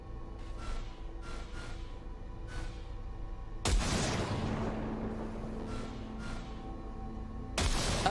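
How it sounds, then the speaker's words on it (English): In Cyberpunk 2077, two sharp bursts of gunfire crack out against a quiet, humming background, each followed by a lingering boomy tail. Faint ticking sounds come before them. "Fire a short burst into it."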